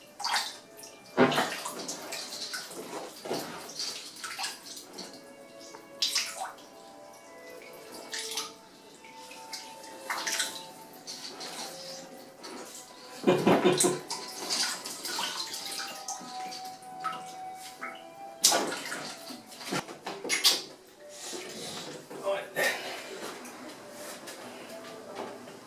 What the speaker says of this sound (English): You like running water, don't you?